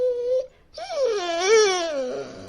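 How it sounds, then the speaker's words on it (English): Dog letting out long high whining whimpers, a short cry followed by a longer wavering one that rises and falls, close and fairly loud. "This is a dog."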